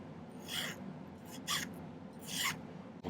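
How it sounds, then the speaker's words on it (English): Hand file rasping on silver pieces being thinned and tapered at the ends for a contemporary abstract pendant, three short close strokes with pauses between them. "I'm going to file them a little bit thinner at the end so they kind of taper down."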